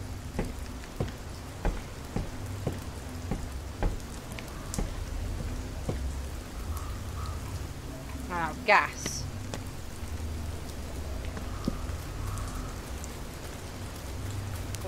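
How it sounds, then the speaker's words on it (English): Steady rain falls in the horror video game Fears to Fathom: Ironbark Lookout, with a rumble of thunder near the middle and a brief spoken word heard over the downpour. "Got drenched in the rain."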